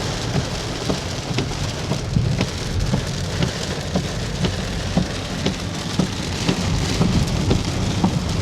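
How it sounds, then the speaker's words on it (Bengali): Heavy rain drums steadily on a car driving the highway near Cumilla Cantonment, with dense broadband patter, scattered louder drop hits and a low road rumble beneath, continuous and close with no talking. "প্রচুর বৃষ্টি"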